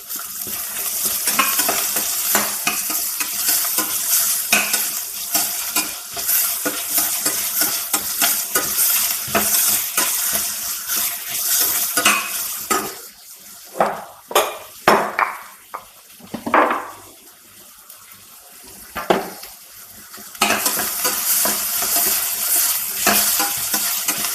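Salted onions sauté in a pan, a continuous close sizzle with busy rhythmic stirring and scraping that drops to a few separate clanks partway through, then returns to full frying.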